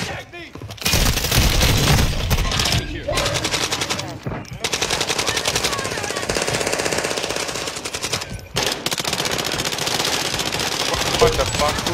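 Sustained automatic gunfire in a multiplayer shooter video game, dense and loud, rattling almost continuously for the whole stretch with only a few brief gaps, voices faintly underneath.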